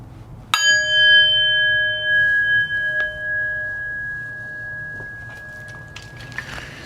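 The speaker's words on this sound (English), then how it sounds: "in just a moment I will ring the bell" A meditation bell is struck once near the start, a bright ringing tone that hangs and slowly fades for several seconds over a quiet room with faint shuffling and small knocks.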